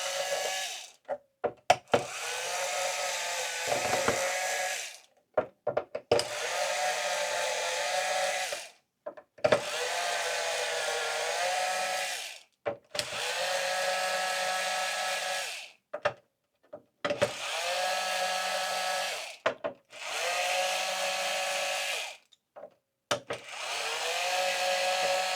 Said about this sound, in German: Mit Akkuschrauber geht es natürlich besser und schneller.